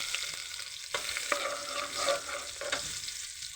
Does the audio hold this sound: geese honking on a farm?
no